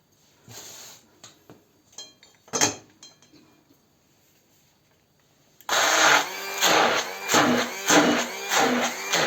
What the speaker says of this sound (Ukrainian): Перебиваємо блендером.